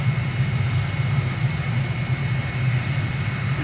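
Aircraft engine at full idle in a flight simulator game over choppy New Zealand terrain: a steady, loud jet drone with a low hum and thin high whine, unchanging throughout, with no voices.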